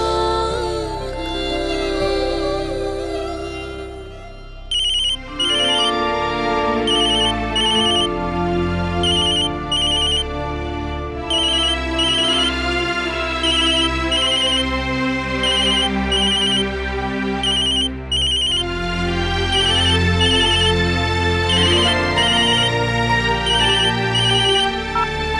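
A phone ringtone plays loud and close, a repeating electronic melodic pattern cycling steadily with brief gaps, with no talking over it.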